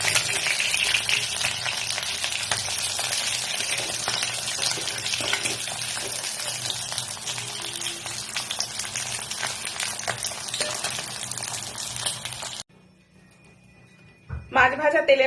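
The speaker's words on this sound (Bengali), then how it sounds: "খুব বেশি ভাজবো না, হালকা লাল করে ভেজে নিচ্ছি" Katla fish pieces fry lightly in oil with a steady close sizzle and hiss under talking. The sizzle cuts out abruptly near the end, leaving a quiet gap before a short burst of other sound.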